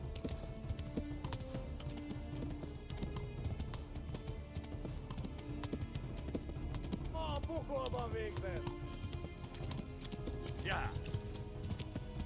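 Hooves gallop in rapid rhythmic clip-clop beneath constant game background noise in the medieval video game Kingdom Come: Deliverance. A brief neigh and other game sounds come through, and the whole thing plays at a fairly low level.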